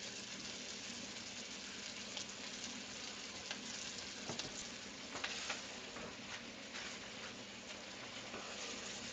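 Ribeye steaks searing in a hot pan give a steady, close, crackling sizzle that runs on without a break, with a few sharper pops and spits rising out of the hiss and no voices.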